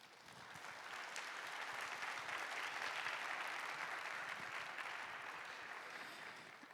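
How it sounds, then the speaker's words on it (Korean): Sustained applause from a church congregation, rising to a full steady clapping and tapering slightly toward the end, heard from a distance in a reverberant room. "주님이 왕 되시는 가정 되길 박수로 축복해 주시길 바랍니다."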